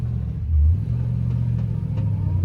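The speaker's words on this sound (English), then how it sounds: "Obviously they sound great with that side exhaust, as we just let you hear." A restored 1965 Shelby GT350 with side exhaust drives past, its low engine rumble steady and close, swelling briefly as it accelerates.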